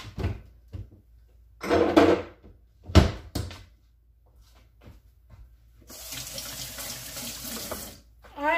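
Kitchen tap runs water into a cup at a sink, a steady broadband hiss lasting a couple of seconds near the end, preceded by scattered knocks and handling clatter.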